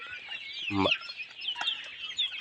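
Desi chickens cluck and chatter while being fed a low-cost nutritious feed, with several short close clucks and a brief louder squawk near the start over a soft background of bird calls.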